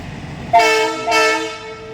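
Train passing, a loud two-blast horn sounding up close over the rumble of the rail cars, with no talking.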